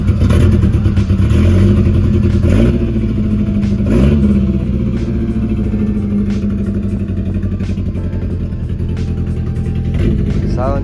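A car exhaust fitted with a Sonar muffler rumbles loud and close, with deep idling throb and several sharp revs rising and falling throughout.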